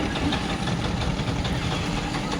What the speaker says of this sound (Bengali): আর এখন যাচ্ছে এটা প্যাসেঞ্জার বোট যাচ্ছে